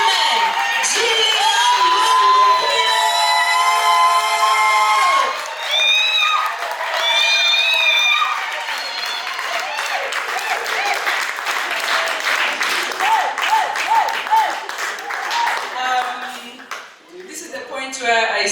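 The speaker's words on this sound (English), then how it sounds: "this time she deserves a great, great great round of applause" A large audience at a live cooking show applauds and cheers loudly and steadily, with whoops and shouts rising over continuous clapping throughout.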